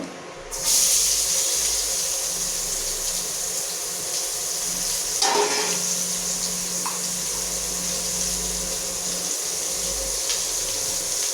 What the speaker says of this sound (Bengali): এবার এই গরম তেলেই দিয়ে দেবো হচ্ছে এই কাটা পেঁয়াজটা, গরম তেলে দিয়ে দেবো।